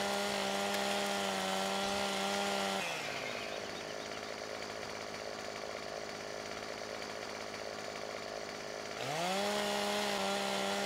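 A chainsaw cutting trees in Farming Simulator 17, a steady high engine whine that drops into a lower, rougher bogging tone while biting through wood for several seconds, then revs back up.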